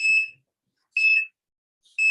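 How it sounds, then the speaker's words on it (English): A meeting timer signals the end of a three-minute speaking slot at a planning commission session, giving three evenly spaced, loud electronic beeps about one second apart with silence between them. "That's 3 minutes. It's the timer."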